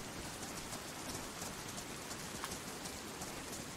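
Steady rain in the DayZ video game, a continuous hiss of drops pattering on surfaces, even and fairly quiet with no other sounds.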